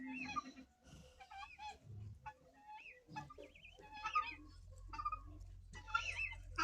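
Chickens cluck and murmur intermittently nearby in a backyard poultry yard with guinea fowl in the morning, with small birds chirping and a steady low hum in the background.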